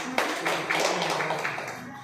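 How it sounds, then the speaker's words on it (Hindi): An audience at a village community meeting claps for Phulwa Devi from the village, a dense burst of hand claps that starts abruptly and continues steadily, with voices faintly mixed in. "मेरी गाँव के फुलवा देवी के लिए जोरदार ताली"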